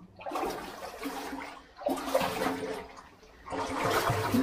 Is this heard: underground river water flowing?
yes